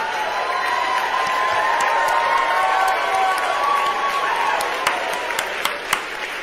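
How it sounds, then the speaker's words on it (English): A crowd claps and applauds steadily throughout, a dense wash of hand claps at moderate distance, with a few sharper nearby claps standing out toward the end. "Artie Moreno's clapping at that"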